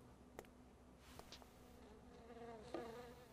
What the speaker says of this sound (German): Eine Fliege.